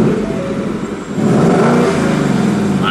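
A 2018 Ford Mustang GT revs while stationary, its loud, close engine note swelling sharply after a brief dip and then holding a rough, sustained roar.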